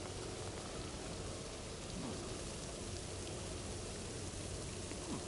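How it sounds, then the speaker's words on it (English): Greenhouse irrigation sprinklers in the video game Death Stranding spray water in a steady, even hiss like rain falling on surfaces, quiet and constant throughout with no voices. "Oh, it's sprinklers. Yeah, it is an irrigation."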